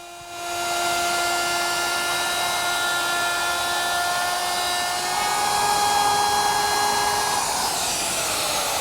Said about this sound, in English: I've taken my router and installed this large pattern-making bit which has a ball bearing at the top edge.